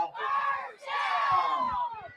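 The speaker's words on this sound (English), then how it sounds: "Hear the crowd." A high school football crowd in the stands at a Joplin versus Neosho game roars in two sustained, chant-like swells, loud and full, with a brief dip between them and no clear talk over it.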